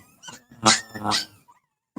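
A dog gives a few close, loud barks in quick succession, followed by a brief pause and a short final yip.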